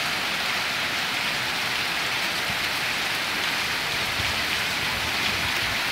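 Heavy, steady rainstorm pours down on a farm, a dense unbroken roar of rain with no pauses or talk.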